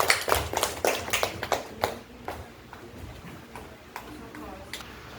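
A classroom cheers group 3 with a short burst of clapping that fades within about two seconds, leaving scattered taps under a low room murmur.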